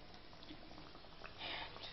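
Batter-coated potato patties (aloo bonda) frying in hot oil, a soft steady bubbling sizzle, faint and continuous with a slightly louder burst near the end.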